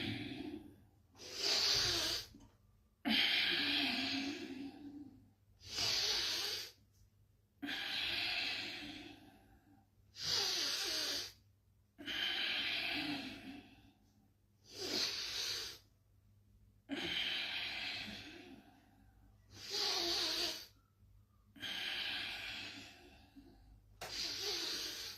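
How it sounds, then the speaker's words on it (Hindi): Ujjayi yoga breathing during a session for diabetes, a rasping, snore-like throat sound repeated in about ten slow, even inhale-exhale cycles separated by short pauses, close and alone. "अपनी चेतना को नाक से हटाकर गले पर ले जाइए, तो खर्राटे जैसी आवाज आएगी कई लोगों को"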